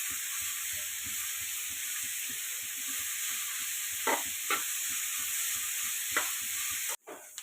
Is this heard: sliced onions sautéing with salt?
yes